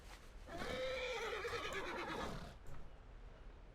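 A Kul Tiran charger horse mount in World of Warcraft gives a single drawn-out neigh, clear and fairly close, followed by a brief soft clatter.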